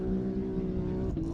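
Side-by-side race car at full power in an off-road race, a loud steady engine drone close by with a slight pitch drop near the end as it passes; no talking.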